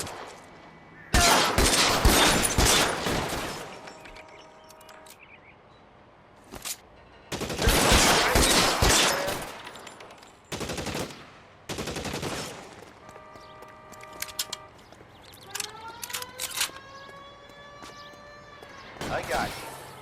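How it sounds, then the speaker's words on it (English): Bursts of automatic gunfire from covering fire in the crime video game L.A. Noire, set at an electroplating plant, come in several loud sustained volleys separated by pauses, with voices speaking between them. "Lay down some covering fire."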